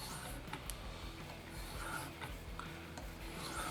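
A kitchen knife slides across a sharpening stone in steady repeated strokes, giving a close, continuous rasping scrape that rises and falls with each pass.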